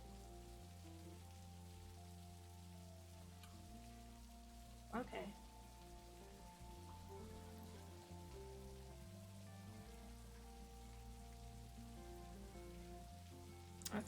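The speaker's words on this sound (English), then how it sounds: "Just try and enjoy the rain" Steady, soft rain falls in the video game Necrobarista, a quiet continuous patter under a low ambient music bed, with a brief voice near the middle and the rain carrying on throughout.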